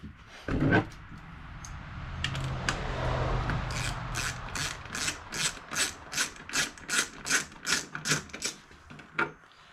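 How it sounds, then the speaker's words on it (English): A ratchet wrench works the two tail light bolts on a Nissan Rogue, starting with scattered mechanical clatter and then settling into a regular run of sharp, close clicks that stop near the end. "I'm gonna take these two bolts out."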